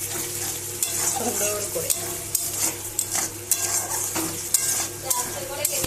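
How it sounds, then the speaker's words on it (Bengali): Cauliflower roast sizzles in a pan on a gas stove while a spoon stirs and scrapes against the metal in irregular clinks, with someone briefly speaking over the frying. "হ্যাঁ, ফুলকপি রোস্ট রান্না করছি"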